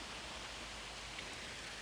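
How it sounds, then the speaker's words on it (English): Rain falls steadily on a rainy day near a garage being restored, a soft, even hiss of drops on surfaces, faint and continuous with no voices. "Now, it's a rainy day."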